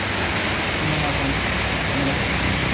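Heavy rain pours down in a dense, steady hiss that fills the whole scene, loud and unbroken throughout.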